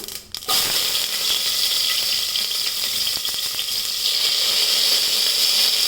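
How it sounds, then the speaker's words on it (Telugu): Mustard seeds splutter in hot oil for a horse gram rasam tempering, a loud, steady close-up sizzle with scattered crackling pops after a brief opening clatter. "ఆవాలు చిట్పట్లాడుతుంది కదా"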